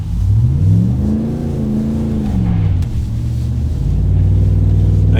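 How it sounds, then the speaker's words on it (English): A RAM 1500 Hemi V8 pickup with an MBRP 3-inch high-flow muffler rumbles steadily and rises in pitch as it accelerates, a throaty exhaust note close and loud with no talking. "I want to hear the V8 sound."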